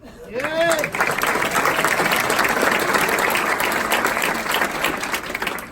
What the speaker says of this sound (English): Let's give a round of applause for our friend Marty Snyder.